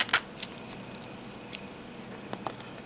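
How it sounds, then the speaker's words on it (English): Scissors snip plastic wrap on a DVD case in a few sharp cuts at the start, followed by faint crinkling and scattered small clicks, close and quiet, with no talking. "Okay, scissors, make today an easy day."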